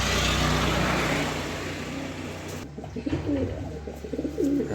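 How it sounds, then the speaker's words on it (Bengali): Grizzle pigeons, including an Afshan grizzle hen, give low soft cooing calls close by, heard first under a loud rumbling engine-like noise that drops away halfway, leaving repeated murmuring coos more clearly. "এখানে আরও এক পেয়ার গ্রিজেল কবুতর আছে"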